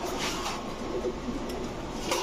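Soft cooing from a blackless shirting female pigeon in a loft, low murmuring coos under a noisy background, fairly faint and close.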